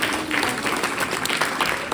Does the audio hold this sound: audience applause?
yes